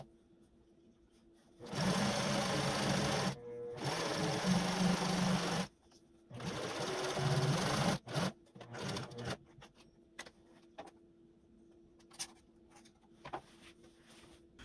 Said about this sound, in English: you're going to take your other pocket piece and sew it the exact same way on the back piece